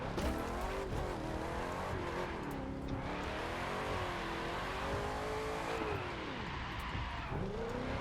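A car engine drives in The Crew 2, revving loudly and steadily with rising and falling pitch, tire noise and a brief squeal, continuous throughout with no talking.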